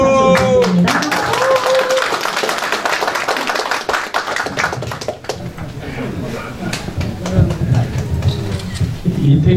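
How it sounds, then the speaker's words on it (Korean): An audience at a campaign office opening applauds as Ahn Cheol-soo is introduced to give a congratulatory speech. A dense burst of clapping fades after a few seconds into room noise and voices. "다음은 안철수 대표님의 축사가 있겠습니다. 박수 부탁드립니다"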